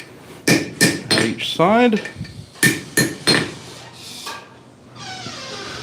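A hammer drives a pin through metal at a smithing forge: a string of sharp, ringing blows in quick bursts, some with a lingering metallic ring, and a voice speaks briefly between strikes.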